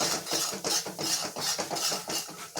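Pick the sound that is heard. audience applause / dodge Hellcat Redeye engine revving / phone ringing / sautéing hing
sautéing hing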